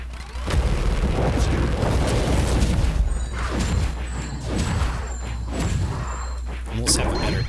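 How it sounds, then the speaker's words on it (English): Repeated booming bomb explosions in the Helltaker video game, a string of dull thuds and bursts over a steady low hum, loud and close, with a voice talking throughout. "the bombs get me"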